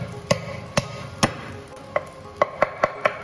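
Cleaver smacking sand ginger flat on a cutting board, about nine sharp, separate blows spaced irregularly, close and fairly loud, with a faint background hum.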